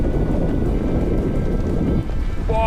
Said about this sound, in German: Boah, es stürmt, alter Schwede.